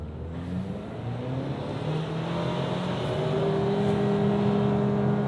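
A Mazda CX-60 with a four-cylinder engine accelerates hard in reverse, its engine note climbing steadily in pitch and loudness without a gear change, heard close and alone.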